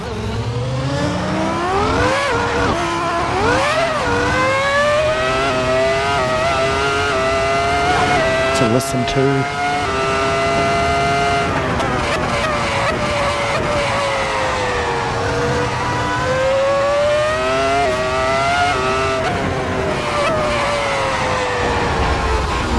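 A high-pitched Formula 1 racing engine in a video game screams and revs up and down continuously through gear shifts, loud and constant, with a brief spoken phrase mixed in.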